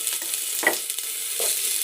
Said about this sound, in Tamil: வெங்காயம் போட்டுக்கின்னு வதக்கிடலாம்.